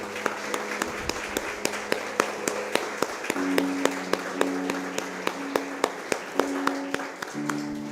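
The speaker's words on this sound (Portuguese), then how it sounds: "Você pode aplaudir ao Senhor, querido?" A church congregation claps in praise at the close of a Portuguese-language service, with sharp, regular hand claps over a soft, sustained musical backing and no speech.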